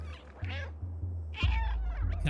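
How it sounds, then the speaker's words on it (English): Several cat meows from the video game Stray, each a short rising-falling cry, loud and close, with a low steady ambient hum underneath and no talking. "Just meow at them."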